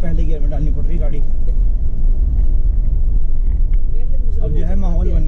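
Steady heavy engine drone from a car straining up a steep slope in first gear, loud and continuous, with voices chatting over the rumble the whole time.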